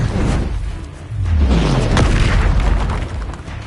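A Bombarda spell explodes in Hogwarts Legacy with a loud, deep boom and bursting crackle that swells and lingers for a couple of seconds amid a busy combat din.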